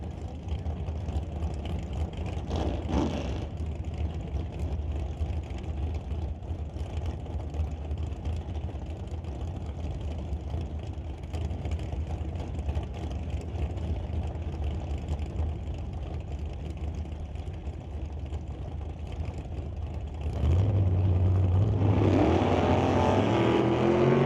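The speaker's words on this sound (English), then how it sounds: "The El Gringo Nova to race against the JBS Equipment and JS Power Sports Ford Roadster." Drag race between a Nova and a Ford Roadster: steady engine roar fills the whole run, swelling louder near the end as a car screams past nearby.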